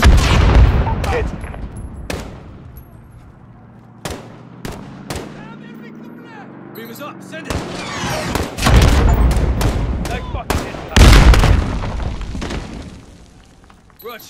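An incoming missile strike in Call of Duty: Modern Warfare (2019) comes through as heavy booms and sharp bursts of gunfire, loud and close, with quieter stretches between them and voices talking.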